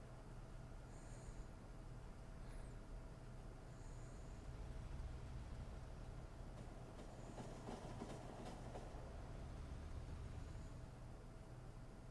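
A train running along its track in the game Factorio, a steady low rumble with rhythmic clicking, joined by faint repeated electronic chirps and a cluster of clanks midway.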